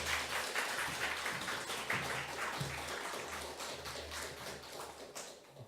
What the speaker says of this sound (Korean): 크게 열렬하게 박수로 환영해 주시기 부탁드립니다